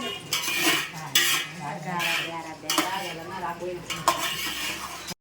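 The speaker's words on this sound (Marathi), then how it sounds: "एक कॉटनचा कपडा भांडी पुसत" Metal cooking vessels wiped dry with a cotton cloth in a home kitchen, giving repeated rubbing scrapes and metallic clinks in uneven bursts, close up and without talk.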